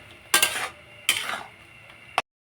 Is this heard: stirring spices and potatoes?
yes